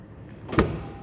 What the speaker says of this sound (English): Yes, that opens the door.